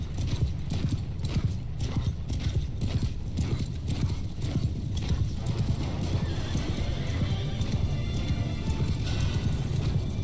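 Horses gallop in a Mount & Blade II: Bannerlord cavalry battle, with loud, rapid, overlapping hoofbeats and occasional whinnies in a dense stampede that grows busier and more chaotic as it goes on.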